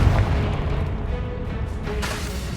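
A Confringo blasting spell going off in Hogwarts Legacy, a deep booming explosion at the start that trails into a rumbling, rolling tail with another muffled burst near the end.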